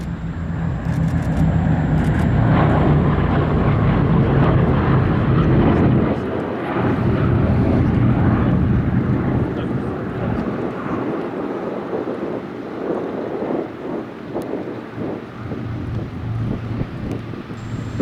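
A B-17 bomber passes at an air show with a broad, steady engine roar that dominates and slowly eases off, while wind buffets the microphone and a commentator speaks over it.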